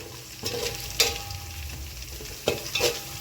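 Spices for fry piece biryani frying in a pan, a steady broadband sizzle with a few sharp scraping stirs and clanks punctuating it, close and moderately loud.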